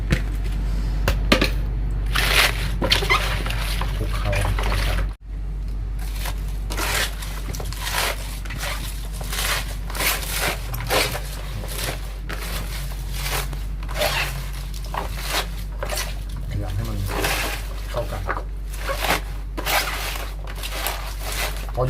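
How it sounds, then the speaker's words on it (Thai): Cabbage being kneaded and squeezed by hand with other pickling vegetables, producing close, repeated wet squishing and crunching pulses with occasional clinks of a container, one brief dropout near the start. "เราจะขยำรวมกับกระลำปรีเลย"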